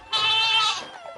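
A person in a Telugu TV serial imitates a goat, letting out one loud, close, wavering nasal bleat that lasts about a second before trailing off.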